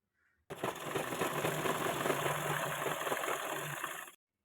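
A sewing machine running continuously while top-stitching a fabric placket, a steady close mechanical whir and rattle that starts abruptly and stops after about three and a half seconds.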